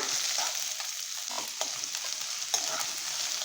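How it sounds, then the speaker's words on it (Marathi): Chopped onion, white spring onion and green peas sautéing in a pan for a dry potato bhaji, a steady close sizzle broken by soft stirring scrapes, with no voices. "मी हे मटार पण ॲड करते आहे छान असं परतून घ्यायचं आहे"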